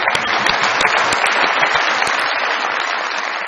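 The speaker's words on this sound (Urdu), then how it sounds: "پہلے تو میری بہن کے لیے بہت ساری تالیاں." Loud, dense applause from a studio audience on a Pakistani comedy talk show, a steady crowd clapping sustained throughout without talk.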